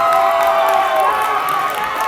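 A crowd at a girls' U19 AA ice hockey game cheers and shouts after a power play goal on senior day, a loud, steady roar of voices filling the rink throughout.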